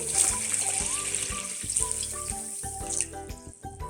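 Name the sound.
pouring water for brining kimchi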